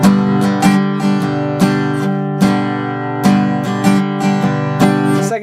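Guitar strummed in a swung sixteenth-note, double-time pattern rings out loud and close, with crisp repeated chord strokes and accented hits in a bouncy, even groove and no talking.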